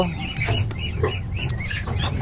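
Hen clucking in short repeated calls near a duck's nest on a small farm, with steady low background rumble and no talk.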